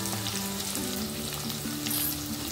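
Mustard seeds, turmeric, asafoetida and cumin sauté in hot oil for bhogichi bhaji, giving a dense, continuous close sizzle with light stirring scrapes and no speech.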